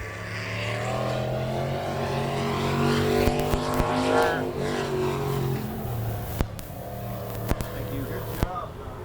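Race car number 71 on lap 1 at Cotton Bowl Speedway during a night race, its engine droning steadily and rising in pitch, with a few sharp pops and cracks late on.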